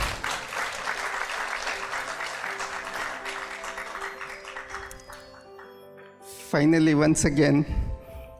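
An audience at a book launch event applauds in a steady burst that fades after about five seconds, followed by a loud, close voice speaking over a quiet room.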